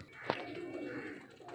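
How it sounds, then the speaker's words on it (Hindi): Breeder pigeons kept for sale, among them a Ferozpuri male, give a soft, close cooing call with one sharp peak near the start and a low murmur continuing beneath. "बहुत ही अच्छे घर के ब्रीडर कबूतर हैं"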